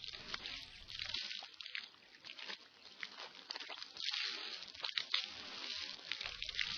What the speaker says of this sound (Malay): Sunat berkumur-kumur sebanyak 3 kali bagi membersihkan mulut daripada sisa-sisa makanan.